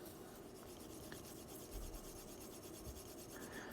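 A leather edge rubbed by hand with a slicker for burnishing, giving a steady, close, soft rasping friction that continues without pause.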